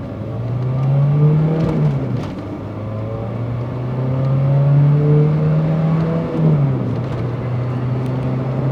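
A Volvo 480 turbo accelerating hard from standstill toward 80, heard from inside the car: the engine note climbs steadily, drops at two clear gear changes, then climbs again, loud and continuous.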